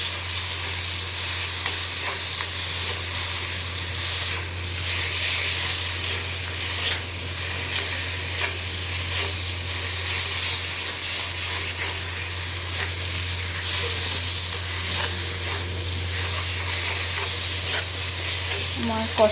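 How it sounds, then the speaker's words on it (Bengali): Fish curry masala sautéing with tomato, potato and green chilli in a pan, giving a steady close sizzle and frying hiss with occasional stirring scrapes, no talk. "এখন টমেটো দিয়ে এগুলোকে ভালো করে কষাবো। আলু আর কাঁচা লঙ্কাটাও দিয়ে দিয়েছি।"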